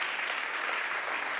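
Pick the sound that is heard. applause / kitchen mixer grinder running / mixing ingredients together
applause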